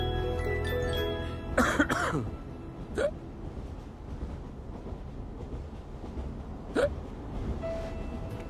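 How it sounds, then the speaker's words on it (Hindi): Hiccups in a Hindi film scene: a few short, sharp hiccup-like vocal bursts spaced a couple of seconds apart, heard close over a low rumbling, train-like background with music. "मम्मी फिर हिचकी।"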